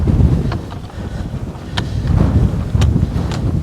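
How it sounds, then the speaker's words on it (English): Strong wind buffeting a Rode Wireless Go microphone on a desert trail in Arizona, a loud continuous low rumble with surging gusts and a few sharp crackles, no talk. "The wind's blowing pretty hard."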